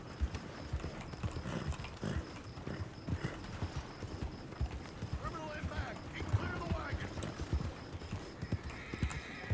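Horse hooves clip-clop steadily on the ground in the Red Dead Redemption 2 video game, with a horse whinnying now and then and a voice talking over the sounds throughout.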